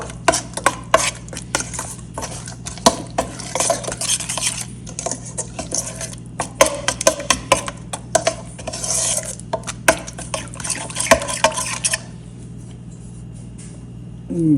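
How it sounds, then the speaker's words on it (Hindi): A spoon scrapes and clinks against a bowl in quick, uneven strokes while a spice paste is stirred and mixed, then it stops and the room falls quiet. "इसको करेंगे हम अच्छे से मिक्स ताकि हमारी जो है वो पेस्ट बन जाए"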